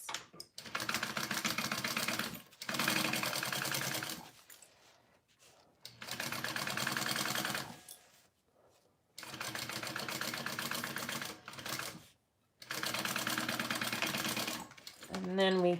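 A sewing machine stitches a zipper seam at a quarter-inch seam allowance, running in four steady whirring bursts separated by short pauses, close and fairly loud.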